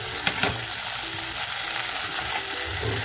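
Onion, tomato and bay leaf frying in a pan for village-style mutton masala, a loud continuous sizzle with stirring scrapes and clinks throughout, close and without speech.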